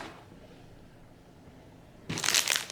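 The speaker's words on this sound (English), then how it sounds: "You grab your coffee pouch." A coffee pouch for a hotel coffee maker crinkles loudly in a short burst of crisp, crackling packaging noise after a quiet stretch, close up and alone.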